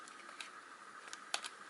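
Quiet, sparse key taps on a computer keyboard as commands are typed to control model railway signals from a Raspberry Pi, a few light clicks spread out with one sharper tap near the end.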